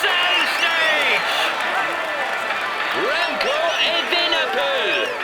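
A crowd applauds and cheers for a stage winner on the podium in a Tour de France cycling video game, steady clapping and whistling throughout.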